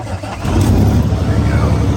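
A Volvo truck engine starts up close by: a short quiet lead-in, then a deep rumble rises and settles into a loud, steady low idle.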